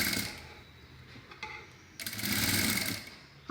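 A sewing machine runs in short whirring bursts, stopping and starting again, while stitching along the canvas edge of a high-neck blouse up close.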